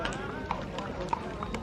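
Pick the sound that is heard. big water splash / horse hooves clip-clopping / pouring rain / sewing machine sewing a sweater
horse hooves clip-clopping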